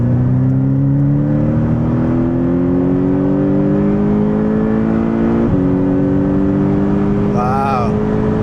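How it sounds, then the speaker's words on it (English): A Porsche 718 Boxster GTS engine accelerates hard, heard up close from inside the car as a loud, steadily rising drone with a brief gear change partway through. "you're hearing this engine right next to your ears"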